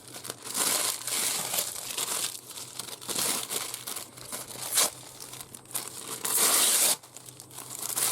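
Lined tissue paper being torn and crumpled close up, a continuous papery crinkling and ripping that swells in bursts over several seconds, with no talk.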